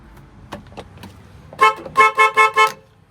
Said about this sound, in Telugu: Bluetooth horn.